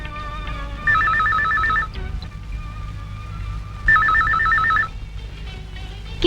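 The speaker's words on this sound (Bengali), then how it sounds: "ফোনটা ধরতো।" A telephone rings with an electronic warbling trill in two separate bursts, each about a second long, over a low background hum.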